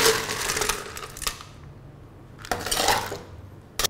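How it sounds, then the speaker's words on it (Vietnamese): A big scoop of ice tumbles into a cup for chestnut milk tea, a burst of clattering, rattling cubes followed by a brief quiet, then a second clinking rattle and a sharp tap at the end. "Một xúc đá to."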